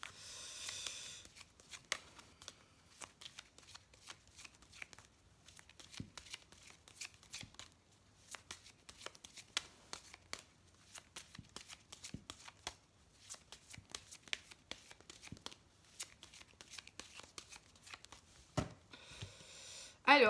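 A deck of oracle cards is shuffled by hand in a quiet room, giving soft, rapid, irregular riffling and flicking bursts that repeat close by for the whole stretch.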